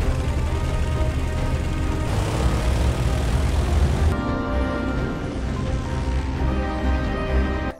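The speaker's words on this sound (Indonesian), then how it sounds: "Di atas udara, pesawat ini langsung memposisikan diri pada formasi yang telah ditentukan." A squadron of propeller-driven warplanes flies in formation, giving a continuous droning engine roar that shifts in intensity partway through.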